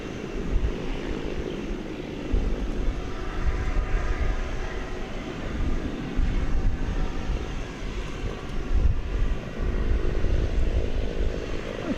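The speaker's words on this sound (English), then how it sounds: "37-year-old aircraft." A 37-year-old Martinair jet from 1988 rumbles at night near a DFW Airport runway, a steady, moderately distant roar with a low, gently pulsing engine drone throughout.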